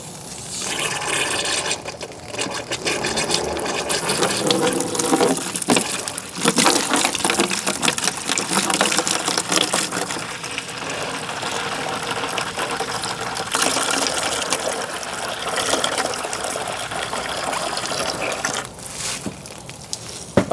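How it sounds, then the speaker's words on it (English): Water from a garden hose rushes through the heater core of a 2013 Subaru WRX during a flush, a loud, steady gushing and splashing that holds for about twenty seconds with small surges. "open up the garden hose"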